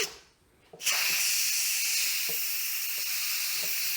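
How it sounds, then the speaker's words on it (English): Steam bursts from the release valve of a Cosori pressure cooker, a sudden loud rushing hiss that starts after a quiet moment and holds steady and close, with faint clicks underneath. "I'm going to turn the steam release."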